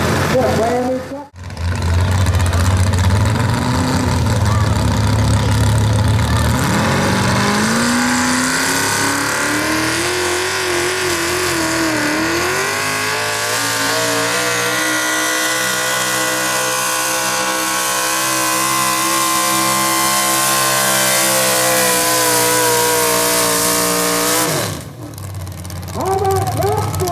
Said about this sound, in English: The 1986 Ford Ranger with a 351 cubic inch small block Ford for power.